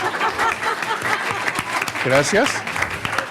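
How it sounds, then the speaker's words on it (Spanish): Audience applause at a doctoral fellows symposium, moderate and steady clapping from a crowd, with a speaker's voice talking over it near the end. "entonces les voy a pedir que aplaudan ahorita"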